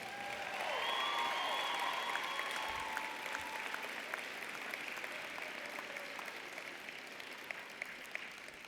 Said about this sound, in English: why don't you give a round of applause for all the people who helped you get to this point?